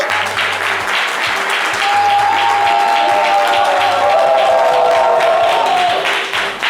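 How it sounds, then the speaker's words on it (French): Loud audience applause with some crowd noise fills a live French-language variety show as a woman is called to the stage, dense clapping continuing throughout with a tonal sound rising briefly in the middle. "on va l'applaudir très très fort"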